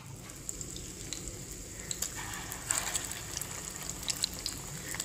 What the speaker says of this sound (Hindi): तो ऑयल अच्छा गर्म हो जाएगा तो यहाँ पर इसमें 1-1 करके कबाब डाल देंगे।